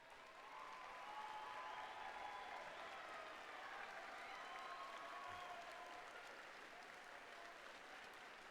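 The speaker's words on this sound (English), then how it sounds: "We give them applause, recognize them." A crowd applauds steadily at a robotics district event opening ceremony in Auburn, a dense wash of clapping that holds at an even level for several seconds.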